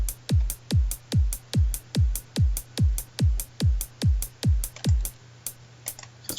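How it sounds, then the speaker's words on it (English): A plain electronic psytrance beat plays: booming kicks with dropping pitch hit in a steady four-on-the-floor pulse under thin hi-hat ticks. It is clear and near, and the kicks stop near the end, leaving faint hats. "this is going to be a generic beat to start"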